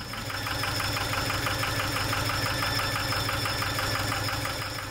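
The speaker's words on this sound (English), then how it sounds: "now we checked what the engine was doing when we put it into gear" A sailboat's inboard engine runs in gear while struggling to reach enough revolutions, a steady close rumble with a rapid, even knocking pulse and constant mechanical vibration.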